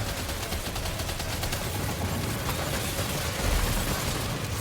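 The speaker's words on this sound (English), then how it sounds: "Oh, this machine gun is doing the work." Machine gun fire in Death Stranding 2: On the Beach, a loud, rapid, unbroken rattle of shots with a heavy low thump near the end.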